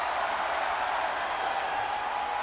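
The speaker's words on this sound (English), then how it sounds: "And you see we have a live crowd" A live arena crowd in the WWE 2K25 wrestling video game roars and claps in a dense, steady wash of cheering, loud and unbroken, with no distinct voices.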